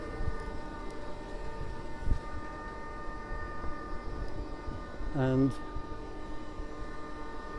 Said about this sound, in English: This is the train we took.